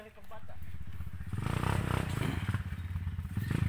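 A motorcycle engine starts thrumming nearby, its rhythmic pulsing growing louder and rougher after the first second, with some scraping clatter and voices mixed in.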